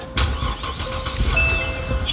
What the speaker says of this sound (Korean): 자, 시동 한번 걸어볼게요.